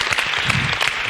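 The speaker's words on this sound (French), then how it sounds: "Alors applaudissez pour vous-même, le choriste." A live gospel concert audience applauds for the choir, dense steady clapping filling the whole moment at moderate loudness.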